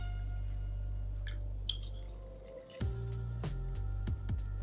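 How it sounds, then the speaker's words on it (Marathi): Water is poured into a small bowl while cooking a coconut-milk vegetable dish, heard as a few splashes and drips after a steady low hum, close and fairly quiet. "ह्याच वाटीमध्ये आपण 1 वाटी पाणी घेऊया"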